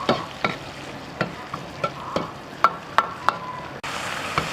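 Pork intestines with pickled chillies and chilli bean paste are stir-fried over low heat in a wok, a steady sizzle punctuated by regular metallic scrapes of the spatula about twice a second.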